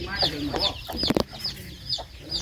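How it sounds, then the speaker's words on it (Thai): Farmyard chickens cluck close by in a series of short, irregular bursts, with a brief louder flurry of squawks in the middle. "ไก่ข่อยอยู่นี่แหละ"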